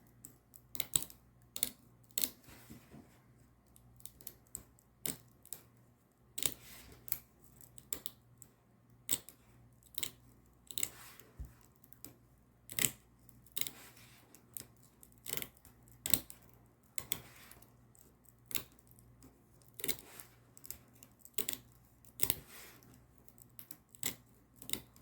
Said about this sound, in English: And then I'm going to cut that circle all the way out.